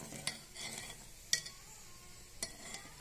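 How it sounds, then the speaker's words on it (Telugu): Coconut milk junnu mixture being stirred in a pan over low heat, a soft scraping swirl broken by a few sharper utensil clicks against the pan, quiet and close. "సిమ్లో పెట్టుకొని అలా కలుపుతూ ఉండాలి లేదంటే ఉండలు కట్టేస్తుంది"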